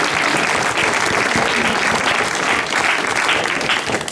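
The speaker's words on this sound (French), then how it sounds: "Allez, on l'applaudit bien fort." An audience at an outdoor theatrical walk applauds steadily and loudly for the whole stretch, a dense wash of clapping with faint crowd murmur.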